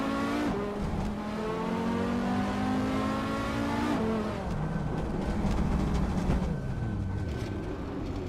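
Racing car engines in a racing video game, including a 1993 Peugeot 405; loud, steady revving with rising and falling pitch as gears shift, several engines blending together throughout.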